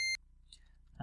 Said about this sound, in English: If you try to go out of bounds, like I'll press down here, you get a little beep.